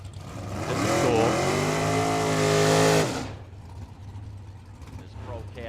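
A Willys drag racing car at Firebird Motorsports Park roars loudly for about three seconds with a rising engine note, then cuts away to quieter track-side noise. Voices can be heard in the background.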